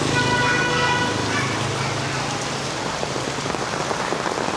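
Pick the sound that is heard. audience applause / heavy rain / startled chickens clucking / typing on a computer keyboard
heavy rain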